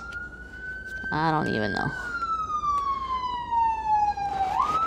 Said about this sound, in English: Oh, the police are coming. Or is it ambulance?